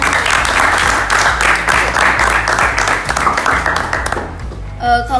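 Enthusiastic clapping and applause from a school scout group's audience, dense and sustained for several seconds before fading out, with a brief burst of voices at the end.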